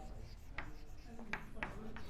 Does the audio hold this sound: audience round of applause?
no